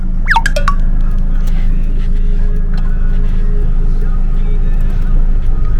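A Honda Civic 3-door car drives with a steady, loud low engine drone and road rumble heard from inside, with a few brief squeaks and chirps early on.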